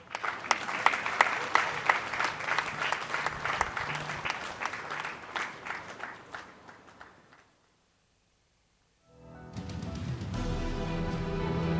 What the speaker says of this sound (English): In Africa, clapping is for free.